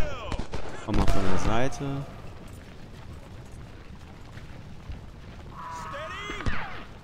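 Cannon fire booming in Ultimate General: Civil War at Gettysburg, a few dull reports scattered under German speech, with brief bursts near the start and end.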